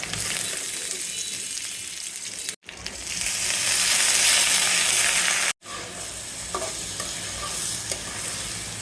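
Dried chilli and onion fry in hot oil, a loud, close, bright sizzle with continuous stirring scrapes, broken by two brief pauses before the hiss resumes, with a few soft clinks near the end.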